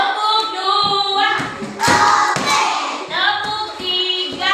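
First-grade children play a clapping game in a classroom, with a handful of sharp hand claps in quick bursts among young voices chanting together close by.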